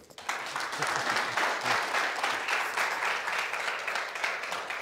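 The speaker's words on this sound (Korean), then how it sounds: "강 교수께 박수 한번 치시죠" Applause from a forum audience honoring a professor, a dense steady wash of many hands clapping that starts abruptly and holds loud and even throughout, with no talk over it.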